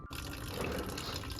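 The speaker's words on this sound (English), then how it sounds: "We were able to cut in the pipe, just waiting for the water to drain out a little bit" Water drains out of a freshly cut pipe during a construction job, a continuous close splashing and trickling flow with no voices.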